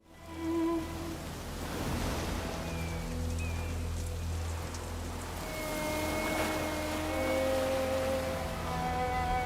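Rain falls steadily through the rainy season over a village, a dense, even hiss of drops on surfaces that continues throughout, with soft sustained tones layered beneath it.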